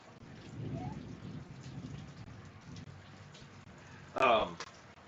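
Heavy rain falls steadily at night with a low rumble of thunder, a soft continuous wash of sound, then a sharp brief crackle bursts out near the end.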